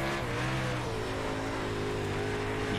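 A dirt late model race car engine on Volusia Speedway Park in iRacing drones steadily at close range, holding a throaty, sustained rev without letup and heard alone.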